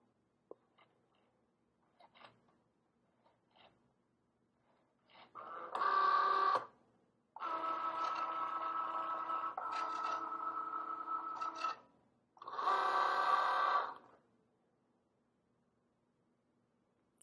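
A Cricut Joy cutting machine loading material: a few soft clicks, then three bursts of motorized whirring, short, long, short, close and moderately loud in a quiet room.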